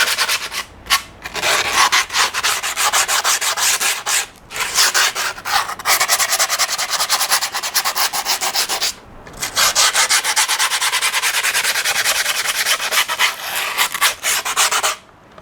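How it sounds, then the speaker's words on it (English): Grip tape is sanded along the folded-over edges of a skateboard deck in a close, loud, rasping rub of repeated strokes, broken by a few short pauses. "Fold it over and sand the edges."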